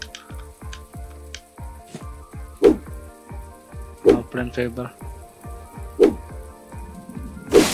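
Rain pattering in the video game My Time at Portia, a soft steady sizzle-like hiss under game music, with a voice talking briefly over it.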